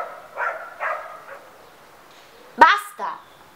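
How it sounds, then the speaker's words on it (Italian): A dog barks a few times in short, separate yaps, partly under someone talking in Italian, the barks fairly distant and moderately loud. "da ieri sera abbaia sto cane"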